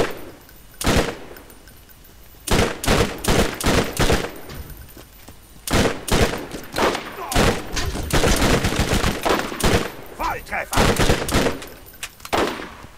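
Bursts of rapid gunfire in Borderlands fire at enemies, with repeated loud volleys and short pauses between them, and automatic-style runs blending into sustained shooting near the end.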